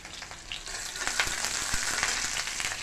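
Panch phoron, cumin and coriander sizzle loudly in hot oil with onions for khichuri, a dense, steady crackling hiss dotted with sharp little pops.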